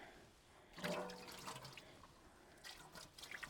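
Rinse water runs off a natural gas BBQ part being cleaned with vinegar and drains into a catch pan, giving close splashing, trickling and dripping that swells after the first second and comes in uneven bursts.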